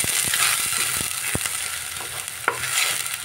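Spice paste fries in oil with salt for an egg and potato dish, a continuous close sizzle broken by sharp scraping stirs and a few clinks of the spoon against the pan.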